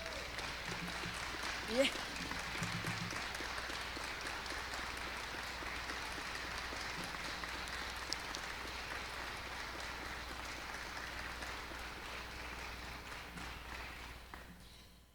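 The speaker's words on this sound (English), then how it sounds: "give Nancy Christensen a great round of applause" An audience at an awards ceremony applauds in a long, even patter of many hands, heard at a distance and fairly quiet, with a voice calling out briefly near the start. The clapping thins and fades away at the end.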